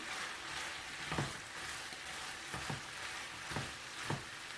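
Sliced bell pepper frying with softened onion in a pan: a steady, hissing sizzle, broken now and then by soft stirring knocks.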